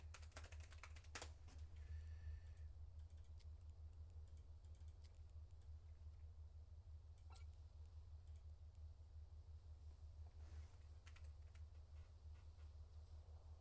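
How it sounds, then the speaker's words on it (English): Bursts of quick clicking keystrokes on a computer keyboard during an Eve Online gaming session, clustered near the start and scattered later, over a constant low electrical hum. "I was typing."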